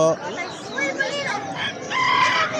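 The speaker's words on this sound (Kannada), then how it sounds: "ಕೋಳಿ ಮರಿಗಳು ಬಾತ್ಕೋಳಿ ಮರಿಗಳು" Chickens and a rooster cluck and crow at a Friday market in Kuwait, their calls overlapping with chatter and a steady noisy background.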